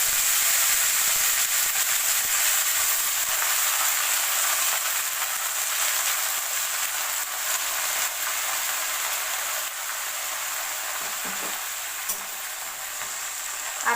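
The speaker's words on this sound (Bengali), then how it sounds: "এই সময় গ্যাসটাকে কমিয়ে দিলাম, দিয়ে শাকগুলোকে আমি আস্তে আস্তে করে ছেড়ে দেবো।" Red amaranth greens hitting hot oil with chopped garlic in a pan over a lowered gas flame, a loud, steady broad sizzle and hiss that runs on for the whole stretch, easing slightly toward the end with no talking.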